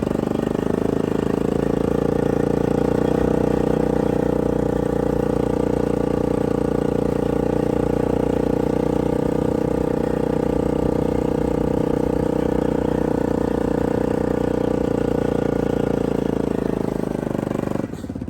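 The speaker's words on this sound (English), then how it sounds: "start pulling the kids around on a four-wheeler" A four-wheeler engine runs steadily and loudly at a constant pace for the whole stretch while pulling kids around in the snow in South Louisiana. No voices.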